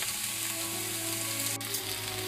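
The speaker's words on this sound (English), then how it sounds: "looks like our sauce rather is boiling" Chicken mole sauce bubbles and sizzles steadily in a pot on the stove, a dense, continuous crackling hiss heard up close with no talk.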